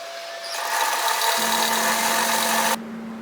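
A sewing machine stitches a reusable fabric produce bag down to the hemline, giving a loud, steady motor whir that runs for over two seconds and then stops abruptly with nothing else heard.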